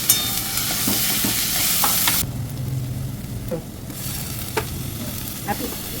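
Chopped onion and potato frying with garlic in a pan, a steady loud sizzle that drops and softens partway through, with occasional stirring clinks and scrapes.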